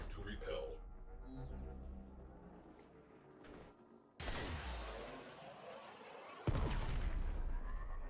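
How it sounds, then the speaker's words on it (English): Lock-on missiles fire in the video game Warframe as heavy booming launches and blasts with rushing swells, one burst in the middle and another near the end over a rumbling game backdrop. "Oh, lock-on missiles are a thing."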